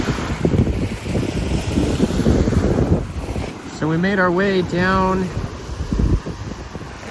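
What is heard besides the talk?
wind on the shore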